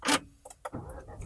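A Peugeot 208 GT Line 130 hp starts by push button: a couple of sharp clicks, then the engine catches with a brief burst and settles into a close, steady idle.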